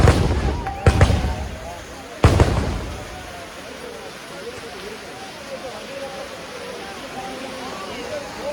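Firecrackers set off at a kummatti festival in Pudussery, Kerala: two loud, sharp bangs about a second apart, then a quieter crowded outdoor ambience.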